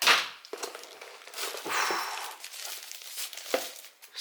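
Plastic packaging crinkles and rustles in short, irregular bursts as an Azio Retro Classic Bluetooth keyboard is pulled out of its box, close and fairly quiet, with a few soft handling thumps.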